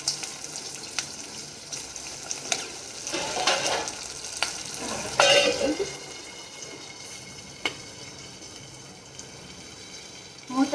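Mushroom biryani cooking in a pot, with steady sizzling and frying, scattered clinks and stirring knocks, and a louder burst of hissing midway; a voice speaks at times over the cooking.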